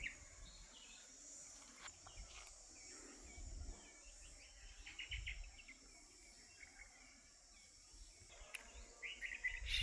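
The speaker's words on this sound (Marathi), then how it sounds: "शांत आणि सौंदर्य, पक्ष्यांचा आवाज फक्त." Birds sing and chirp in the quiet hills of Mahabaleshwar, with faint, scattered calls mixed into a steady high insect and cricket drone across a soft outdoor background.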